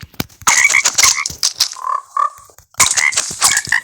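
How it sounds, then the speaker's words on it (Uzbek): A frog croaks in a loud, close series of rough, rasping calls, with a brief pause in the middle before the croaking resumes. "Qurbaqa, jon qurbaqa."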